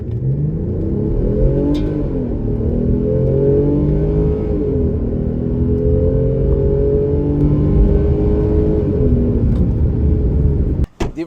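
A 2022 Nissan Pathfinder with all-wheel drive in sport mode accelerates hard from a standstill, its engine a steady loud rumbling drone that climbs through rising gear sweeps and shifts for about ten seconds before cutting off abruptly.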